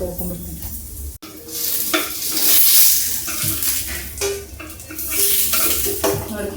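Sabudana rice balls fry in oil in a paddu pan, a steady sizzle broken by clinks and scrapes of a utensil against the metal, close up with no voices.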